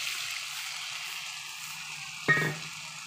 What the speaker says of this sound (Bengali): একটু হালকা করে জল দিয়ে দেবো বন্ধুরা